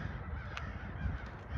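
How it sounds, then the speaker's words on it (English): Crows cawing at a historic cemetery, brief calls standing out over a steady low outdoor rumble, moderately distant and not very loud. "I do find it kind of odd that there is a bunch of crows flying."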